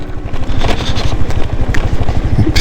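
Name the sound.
motor scooter engine rattling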